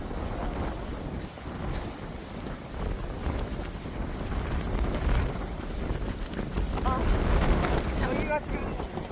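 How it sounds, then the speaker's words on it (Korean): Strong, cold wind gusts across the microphone on the Jeju Olle Trail route 20, a steady broadband roar that stays loud and continuous throughout, with faint outdoor noise mixed in. "날이 너무 바람 불고 추워서"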